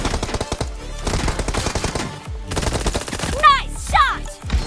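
Gunfire in a mobile shooter video game rattles in rapid automatic bursts, loud and close, with brief gaps and sharp synthetic effect sounds near the end.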